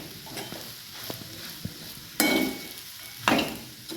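Leftover cooked rice khichdi is stirred in a pan with a spoon. Soft scraping and a low sizzle run throughout, broken by two louder clanks of metal on metal, with no one speaking.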